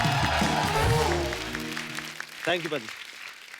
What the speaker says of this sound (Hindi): विकी पाजी के लिए जोरदार तालियां